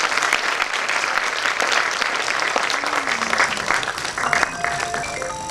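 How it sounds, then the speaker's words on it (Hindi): A crowd at a Dehradun gathering claps in honour of guests, a loud continuous wash of hands that fills the whole stretch, with faint tonal sounds creeping in near the end. "एक बार आगे से पीछे तक के लोग उनके सम्मान में ताली बजाएं"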